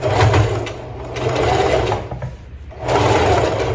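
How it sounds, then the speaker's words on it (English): A sewing machine stitching puff quilt fabric runs in close, steady bursts of rapid mechanical chatter, pausing briefly before starting again. "Don't let the machine take the fabric like it normally would do."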